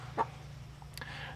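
Big Red Broiler chickens, a hardy foraging breed, clucking: a couple of short, soft clucks and a brief higher call over a low steady hum, with no voices.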